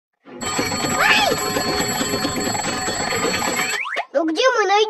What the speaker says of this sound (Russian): Надо сделать так, чтобы Лапочке было непросто дотянуться до будильника и выключить его.